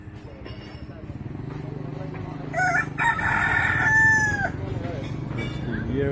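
A rooster by a river in Hoi An, Vietnam, crows once, loud and drawn out, over a low rumbling background, with people talking nearby.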